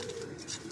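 Domestic pigeons at a pigeon club loft coo softly in a brief, dense burst, nearby and steady, with no voices over it.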